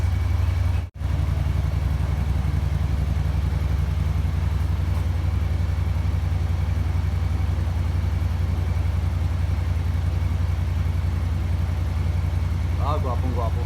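AK550 scooter engine running at a steady idle, a constant low hum at close range with one momentary dropout and a brief voice near the end.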